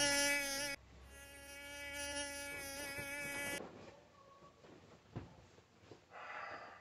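A mosquito whines loudly and close to the ear at night beside someone trying to sleep, a steady high buzz lasting a few seconds before fading into breathing, rustling and a snort.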